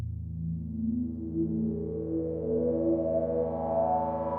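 A GForce OB-X synthesizer plug-in patch with a narrow, bandpass-like tone, a smooth sustained synth line gliding between pitches and slowly brightening, soft and steady with no voices.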